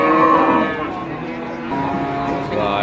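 Cattle moo loudly at Wirosari livestock market, with one long, close, drawn-out low call that fades and then resumes amid the busy crowd noise of the market.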